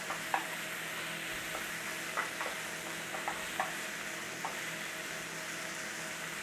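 Onion and garlic mix with black pepper and salt gently frying in a pan over a low flame, a soft steady sizzle with a few faint stirring clicks, quiet and with no talking.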